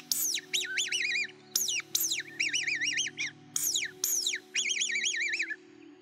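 Hand-blown woodcock decoy call made of wood with silicone rings, giving repeated high, wavering whistled chirps in short bursts over a faint low hum, close and clear.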